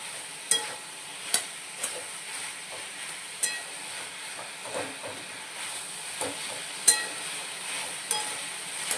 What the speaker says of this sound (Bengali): আমাকে একটু অনবরত খুন্তিটা নাড়িয়ে যেতে হবে